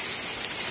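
Steady autumn rain pours at an apiary, a dense, even hiss of drops on surfaces that holds at constant loudness throughout, with no talking.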